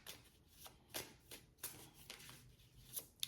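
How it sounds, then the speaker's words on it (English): A mixed oracle card deck is shuffled by hand, giving a run of soft, irregular riffling and flicking bursts close to the mic with quiet pauses between them, and no talking. "It's not wanting to shuffle."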